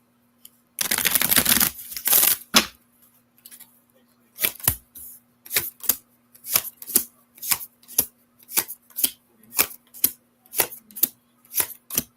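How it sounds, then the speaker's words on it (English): A brief riffling burst of tarot cards being shuffled is followed by a steady series of crisp taps and snaps, repeating at an even rhythm, close and clear. "One more shuffle."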